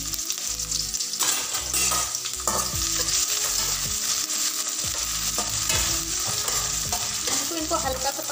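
Onion, ginger, green chilli and curry leaves frying in a pan, loud continuous sizzling with regular stirring and scraping strokes throughout, close up and without speech.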